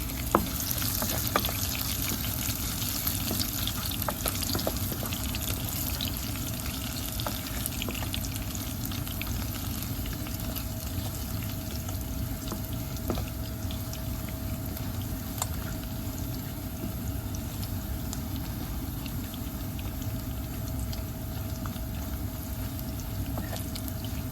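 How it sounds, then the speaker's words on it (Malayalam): Mustard seeds and dried red chillies sputter in hot oil in an electric multipurpose cooking vessel. A steady close sizzle carries scattered small pops and crackles throughout. "ഇപ്പം കടുക് പൊട്ടി വരാൻ തുടങ്ങിയിട്ടുണ്ട്, നല്ലപോലെ മൂത്തിട്ടുണ്ട്."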